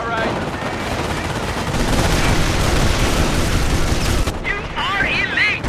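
Company of Heroes Normandy battle with a dense, continuous roar of gunfire and blasts, loud and close, with shouted voices and a brief whistling sound near the end.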